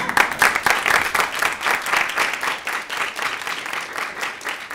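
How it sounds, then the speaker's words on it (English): Applause from an audience at a student government executive candidate forum, dense steady clapping filling the room for several seconds before gradually thinning. "Please hold your applause till after the candidates are down here."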